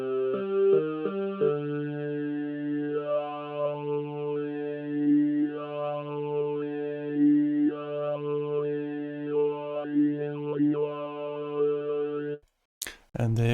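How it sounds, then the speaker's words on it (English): A sustained synth pad from the Helm software synthesizer runs through a formant filter, its held chord sweeping through vowel-like shifts in a repeating wah pattern before cutting off into a brief clicky burst at the end. "Then there's a Formant filter."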